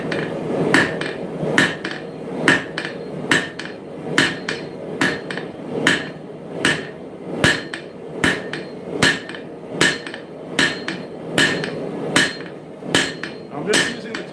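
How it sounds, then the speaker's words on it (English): A steel hammer strikes a dagger blade against the side of an anvil in a smithy, an even run of sharp ringing blows about two per second, close and loud with no talk. "I aim the side of my hammer for the side of the anvil"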